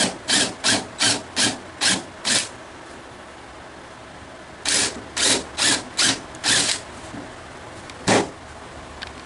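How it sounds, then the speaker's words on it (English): A number 10 countersink bit cuts into wood with a run of short, rhythmic grinding rasps. A burst of six is followed by a pause and then another cluster, close up, with no talking. "We're going to countersink this about 1/4 of an inch"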